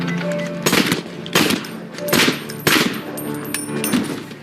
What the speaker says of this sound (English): At the end of the second season, Dale gets shot in the chest 4 times